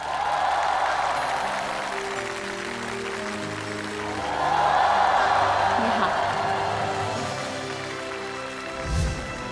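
A studio audience applauds to welcome a guest on a Chinese TV variety show, a sustained wash of clapping and cheering that swells midway and continues throughout.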